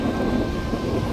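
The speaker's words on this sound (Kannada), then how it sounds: "Heavy rain in Mangaluru." Heavy monsoon rain in Mangalore, heard from inside a moving train: a loud, steady roar of downpour and rumbling noise throughout the short stretch.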